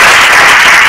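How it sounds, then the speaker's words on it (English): Audience applause for award finalists at a data awards night in Chicago, a loud, dense and continuous sheet of clapping lasting about a second. "Now, big round of applause for all the finalists."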